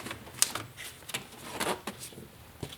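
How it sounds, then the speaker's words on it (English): Plastic 90-degree turn clips snap free one by one from the heat shield of a BMW E46 330i/325i, a run of short, sharp clicks and pops with light rattling between them. "These are just 90-degree turn clips that kind of just pop out of here."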